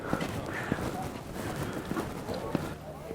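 Horse-drawn cart hooves clip-clop at an even pace over a busy outdoor background near Neuschwanstein Castle, Germany, with a handful of sharp hoofbeats standing out.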